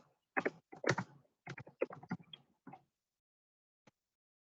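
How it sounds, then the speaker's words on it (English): Someone types a username on a computer keyboard: quiet, close clusters of rapid keystrokes in short bursts, then a pause and one last isolated tap. "just type in your username here"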